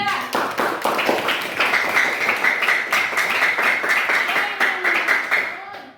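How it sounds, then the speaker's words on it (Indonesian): Students in a classroom clap for a presenting group, a lively round of applause with distinct quick hand claps that fades out at the end. "Beri dulu aplaus untuk kelompok 3."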